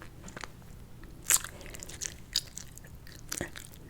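Chewing gum worked close to the mic in an ASMR session, with wet smacks and sharp crisp clicks popping out at irregular moments over a soft mouthy background, no talking.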